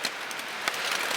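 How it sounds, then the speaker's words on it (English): Rain and wind sweep across an exposed mountain ridge on the Black Mountain Crest Trail at night, a steady broadband hiss with a brief gust peak, moderately loud and continuous with no talking. "Rain and wind."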